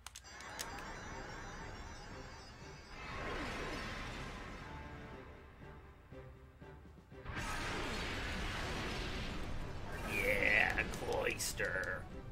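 Shellder evolving into Cloyster in Pokemon XD, a game evolution effect with shimmering, crashing bursts and sweeping swells building over several seconds, ending in a bright sparkling flourish, with a voice talking over parts of it.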